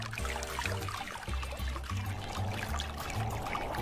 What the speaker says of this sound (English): Water pumped from the water tank pours over the honeycomb cooling pad.